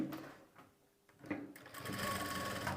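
A sewing machine stitches a sleeve onto a garment body piece: a quiet start, then a steady mechanical whirring run that grows and holds to the end, close by and without talk.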